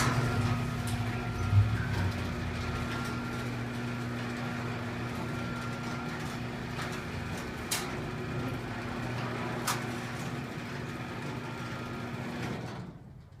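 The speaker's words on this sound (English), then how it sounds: "We're opening a garage door." A motorized garage door opens under remote control from an iPad, its steady low motor hum and rolling drone running evenly for about thirteen seconds before cutting off, with a couple of faint clicks along the way.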